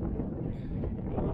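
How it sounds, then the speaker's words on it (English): Outdoors, wind buffets a microphone and makes a steady, muffled low rumble for a brief moment, with no voices. "hopefully you can hear me with the wind"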